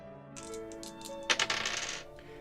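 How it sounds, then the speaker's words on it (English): Dice clatter across a tabletop during a solo tabletop roleplaying game session, a short bright rattle of several quick clicks at close range, with no talking. "So let's roll our dice."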